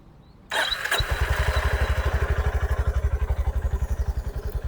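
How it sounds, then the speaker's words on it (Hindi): A Honda CB350 motorcycle engine cranks and catches, then settles into a steady, loud, rhythmic idle chugging close by. "और अब मैं इसको स्टार्ट करता हूँ बाइक को।"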